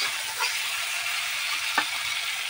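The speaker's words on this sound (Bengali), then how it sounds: "এবার মাছগুলো দিয়ে একটুখানি কষিয়ে নেব।" Fish sautéed in spiced oil for a Bengali fish curry, a steady close hiss of frying with occasional faint stirring scrapes.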